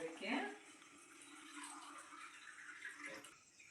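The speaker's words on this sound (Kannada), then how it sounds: "ಸ್ವಲ್ಪ ನೀರು ಹಾಕ್ತೀವಿ ಅದಕ್ಕೆ" Water splashes and pours into a kitchen pot for making kashaya milk, a short burst of pouring followed by softer trickling and sloshing, with someone talking over it.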